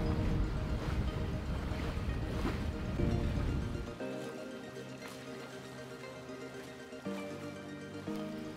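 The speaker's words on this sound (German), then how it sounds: "Gleich darauf gingen wir Anker auf und fuhren mit nahezu Vollgas Richtung Gattunschleusen." Sailboat motoring at nearly full throttle, with a gritty engine rumble and rushing water at first, then a steadier droning hum with tonal engine harmonics. There are two short bumps in level.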